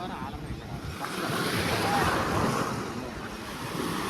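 Sea waves wash steadily onto Ariyaman Beach at Rameswaram, a continuous broadband surf roar mixed with wind buffeting the microphone, swelling slightly midway, with people's voices faintly underneath.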